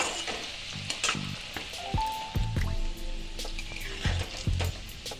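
Onion paste goes into a frying pan of reddish-browned chopped onions for a Bengali egg omelette curry, giving a steady close sizzle broken by soft wet squishes and scraping stirs.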